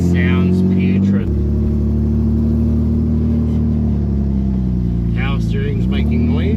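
Power steering on a used car making noise, a droning engine hum with a whining tone that dips and shifts as the wheel turns, with a voice talking over it.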